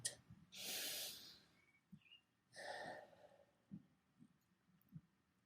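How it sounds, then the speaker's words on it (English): Two long, slow breaths drawn in and let out near the microphone, airy and hissing, with soft clicks and taps in the quiet background. "Focus on breathing in and then breathing out."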